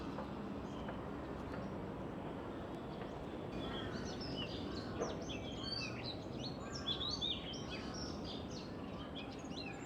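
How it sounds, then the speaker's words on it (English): Birds chirp and call in a Bangkok park, a cluster of quick, bright tweets rising in the middle of the stretch over a low steady ambient rumble, fairly faint and distant. "This area makes for some fantastic nature photography and bird watching. I could hear so many of them."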